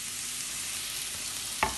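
Sliced champignon mushrooms frying in oil in a pan, a steady soft sizzle and hiss with one brief stir or clatter near the end.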